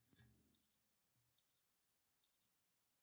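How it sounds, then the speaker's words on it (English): Cricket chirping sound effect played from a Rodecaster Pro, three short bright chirp bursts evenly spaced over a few seconds, isolated against near silence. "it's just crickets"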